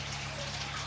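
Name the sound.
aquarium tank being filled with treated tap water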